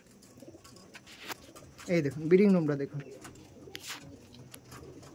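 Someone talks while a pigeon gives a low, throaty, rolling coo, loud and close, in the middle of the clip, inside a pigeon breeding room.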